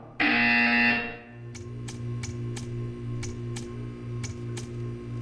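A sharp, loud buzzer blares in Portal 2 for nearly a second, then a steady series of crisp ticks follows over a low hum.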